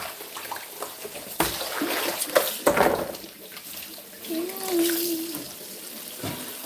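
Water runs steadily from a tap while beetroot is scrubbed by hand, a continuous splashing rush with brief scrubbing and clattering bursts, under intermittent talking.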